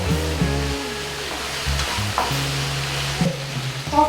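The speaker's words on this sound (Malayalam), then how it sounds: "അപ്പം നമ്മുടെ വെളിച്ചെണ്ണയൊക്കെ ചൂടായി വന്നിട്ട് ഇനി ഇതിലേക്ക് കോവക്കായ ഇട്ട് കൊടുക്കാം കേട്ടോ ഒന്ന് ഇളക്കി കൊടുക്കാം" Ivy gourd pieces frying and being stirred in hot coconut oil in a pan, a soft continuous sizzle with scraping stirs, close and alone.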